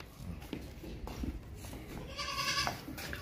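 Goats on a farm, a nanny and a buck with young kids, bleat faintly in the background over steady outdoor noise, with a clearer tonal bleat near the end.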